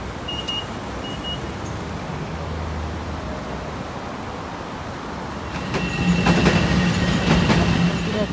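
A train rolls into a station with a steady, loud rumble of wheels on rails. Squealing and clanking rise toward the end as it slows.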